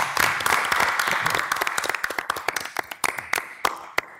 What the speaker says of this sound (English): let's give a round of applause to my successor, Jeanine Nicholson